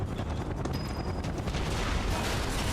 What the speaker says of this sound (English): You dare to shoot at the one and only Cloud?